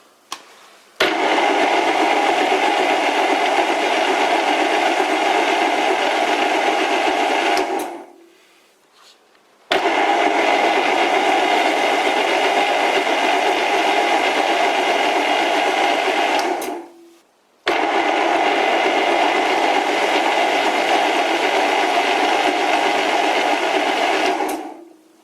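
A vintage lathe cutting a deep thread with the compound, heard as three separate passes of steady whirring machine noise, each lasting several seconds, with short near-silent gaps between them.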